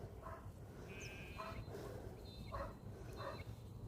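Lambs on an Australian cattle and sheep farm, several short, faint bleats spaced a second or so apart over a low outdoor rumble.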